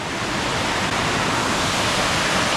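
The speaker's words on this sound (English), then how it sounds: "There's a little waterfall." A small waterfall on a hiking trail rushes in a steady, loud, close wash of falling water with no breaks.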